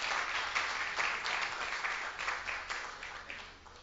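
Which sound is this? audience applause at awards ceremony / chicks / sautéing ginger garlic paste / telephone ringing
audience applause at awards ceremony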